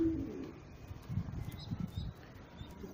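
Pigeons in a coop give soft, low cooing calls that repeat through the clip amid faint coop background noise, with no talking.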